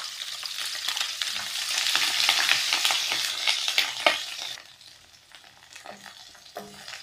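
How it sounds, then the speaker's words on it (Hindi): Onions frying in a tablespoon of oil for restaurant-style matar paneer, a busy close sizzle with scraping stirs that grows loud, then drops to a softer crackle with occasional clinks; no talking. "इसमें 1 टेबल स्पून ऑयल डाले हमने। अभी ये प्याज डालेंगे।"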